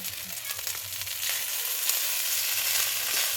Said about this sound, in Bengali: এই যে এবার ভাতগুলো ঢেলে দিচ্ছে এর মধ্যে।